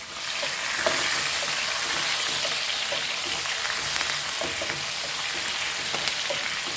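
Tadka tempering for dal sizzles steadily in hot oil with chili, a dense continuous frying hiss broken by small pops and occasional stirring scrapes, close and loud, with no voices.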